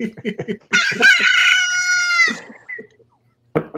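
A rooster crows once, a long loud close cock-a-doodle-doo, preceded by short clucks and followed by a few softer clucks, with a brief voice at the end.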